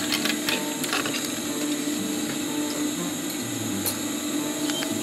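A sewing machine stitches 2.5 cm webbing onto 5 cm webbing for a 30-litre backpack, giving a clattering mechanical run with rapid ticking clicks and a few sharper knocks, close and steady.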